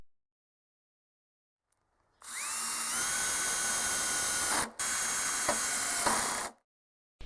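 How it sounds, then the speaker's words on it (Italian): A power drill pre-drills a hole for a Parker screw while a sliding door is fitted, a loud high whine starting abruptly, briefly stopping, then resuming before cutting off. "Come si nota, preferiamo preforare prima di avvitare la vite Parker."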